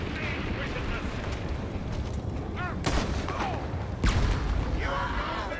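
Booming blasts and gunfire in the space game Star Citizen, including a grenade detonation, two sharp loud impacts over a rumbling, noisy background with a voice talking.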